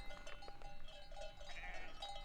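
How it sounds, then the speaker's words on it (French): Small flock of ewes in the mountains of the Queyras, faint scattered bleats drifting in from a distance over soft outdoor background noise. "Sur notre droite là, on a un petit troupeau de brebis."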